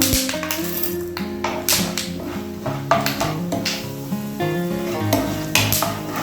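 Tempering spices and peanuts crackling in hot oil for a Bendakaya fry, with a steady close sizzle broken by sharp pops and spatters throughout, and faint tapping of a spoon against the pan, no voices.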